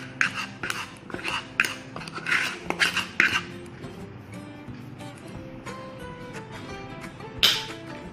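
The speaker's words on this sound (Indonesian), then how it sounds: "Kita aduk rata semuanya." Vegetable fritter batter with garlic, salt, seasoning, turmeric and pepper being stirred in a bowl, a run of close, rhythmic scraping clinks from the utensil for about three seconds, then softer intermittent taps and a final sharp clink.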